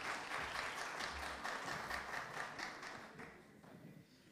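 Audience applause at a French song festival in São Paulo, a dense wash of many hands clapping at moderate distance that gradually tapers off toward the end.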